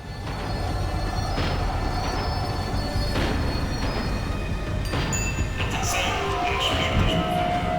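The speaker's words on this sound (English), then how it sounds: "The tram was slowing down, and I'd only just gotten on board." Tram slowing on rails in the video game Max Payne 3, a steady loud rumble of wheels and carriage with brief metallic squeals and knocks, a rising whine near the end as it brakes.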